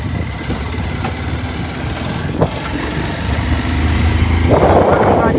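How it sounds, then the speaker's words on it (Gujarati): A motorbike carries a family along the road to a millet field, its engine droning steadily close by and growing louder and rougher toward the end. "ખેતરમાં પણ ફેમિલી આપણે બાઇક લઈને જઈ રહ્યા છો."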